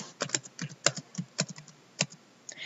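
Keys tapped on a computer keyboard while typing vowels, a series of distinct, close clicks in an irregular rhythm with short pauses between strokes, no voices.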